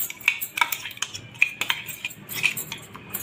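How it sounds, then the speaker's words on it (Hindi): A metal spoon stirs green chilli and dry fruit paste into a chicken curry (murgh zameen doz), giving several sharp clinks against the pot between softer scraping strokes, close and without voices. "उसको भी अच्छी तरह से मिला लेंगे"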